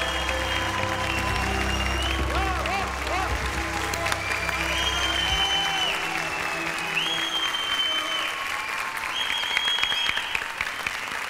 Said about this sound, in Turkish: Alkışlar onlar için.